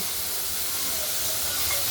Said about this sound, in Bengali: ঢ্যাঁড়সগুলোকে একটু ভাজা ভাজা করে নিচ্ছি